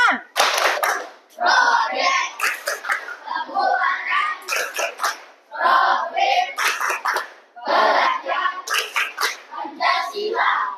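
A school class claps in patterned rhythmic bursts, sharp and close, with short pauses between phrases and a few young voices mixed in.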